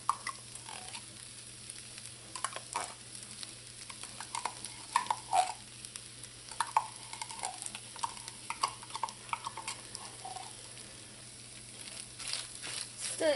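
Tomato paste stirred into sizzling browned ground meat in a pan for lasagna meat sauce, a steady soft sizzle with repeated light spoon scrapes and taps, fairly quiet and close, no talking.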